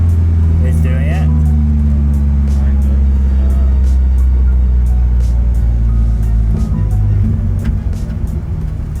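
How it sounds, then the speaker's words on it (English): A car engine holds at high RPM without shifting, a loud steady drone with a low hum running under the whole clip while people talk over it. "you're not shifting, you're high at RPM."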